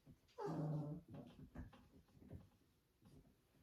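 A dog whines in a short, high, nasal whimper up close, then fades into soft snuffling and faint shuffling; quiet overall.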